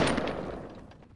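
Gunfire in the video game Fortnite, a quick burst of shots that starts loud and close, then fades out over about a second, with nobody speaking.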